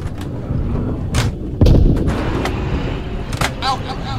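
Video game gunfire and heavy impacts in Galactic Contention during a hot landing zone assault, scattered sharp shots with one loud boom midway, mixed with voices talking over the action.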